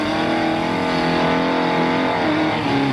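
Trials car engine revving hard on a hill during a Duckhams Trials Car Championship event, a loud, steady, close-up engine note that holds and swells for the full three seconds with no talk.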